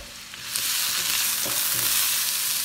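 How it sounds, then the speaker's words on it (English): Onion sizzling in olive oil in a hot pan, a loud, close frying hiss that swells after a brief quieter start and holds steady to the end. "do you guys hear the sizzling of my onion?"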